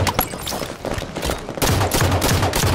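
Rapid volleys of video game gunfire crackle in dense, repeated bursts, loud and close, with the firing growing heavier and more continuous through the second half.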